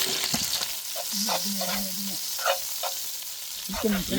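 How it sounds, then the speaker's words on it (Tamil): Big onions frying in hot sesame oil give a steady, close, crackling sizzle that holds for the whole stretch, with a few small stirring knocks. "எண்ணெய் காஞ்சிச்சுன்னா அடுத்து பெரிய வெங்காயம் சேர்க்குறோண்ணா"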